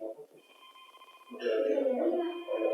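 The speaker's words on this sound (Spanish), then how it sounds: "no sé quién está sonando ahí un timbre, un sonido de un timbre de un teléfono" A telephone ringtone sounds during a formal hearing session, its steady tones running beneath a man's speech and continuing clearly as he keeps talking over it.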